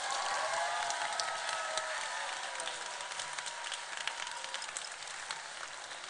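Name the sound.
applause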